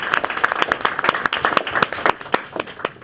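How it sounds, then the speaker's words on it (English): An audience bursts into applause for an introduced speaker at an evening event, a dense patter of many hands clapping steadily, close and lively, fading slightly toward the end. "let's give applause for David Chang"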